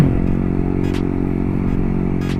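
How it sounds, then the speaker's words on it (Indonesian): A motorcycle engine overdue for an oil change runs rough and uneven, a close, steady low-pitched drone with a harsh grainy texture and occasional faint scraping clatter. "Dari suara mesin udah kasar"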